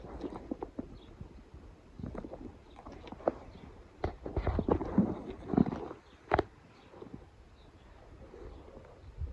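Rhythmic thuds of hooves at a trot, uneven and moderately close, with wind noise buffeting the microphone and occasional faint background sounds.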